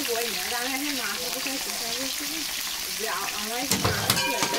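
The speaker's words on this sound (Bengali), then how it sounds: "আগে আমি মাংসগুলো ভেজে নেবো" Pieces of chicken meat fry in a pan with a steady, close sizzle, and a few stirring clatters come near the end. Someone talks over the frying throughout.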